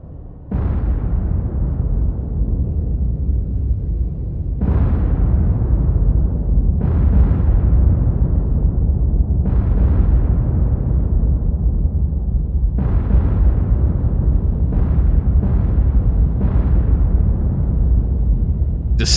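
Warship salvos fire and shells explode during a naval battle in the War on the Sea video game, a run of loud booming blasts with long rumbling decays, several of them close together, with no talk over them.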